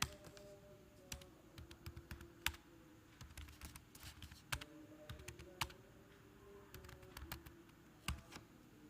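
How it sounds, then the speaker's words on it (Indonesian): Computer keyboard keys tapped in quick irregular bursts while working in Microsoft Word, crisp close clicks with short pauses between clusters. "Jadi misalnya kita ketik lagi, kita ulang ya."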